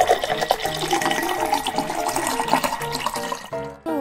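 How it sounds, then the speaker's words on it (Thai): Green vegetable and fruit juice from a toy juicer set poured into a glass, a continuous close liquid trickle and splash ending with a brief gurgle as the flow stops. "ต่อไปเรามาเอาน้ำของเรานะคะเทใส่แก้วดีกว่า"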